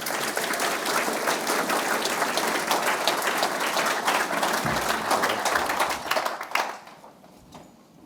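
Dense, sustained applause from a conference audience welcoming a keynote speaker, a loud steady wash of clapping that thins out and fades near the end.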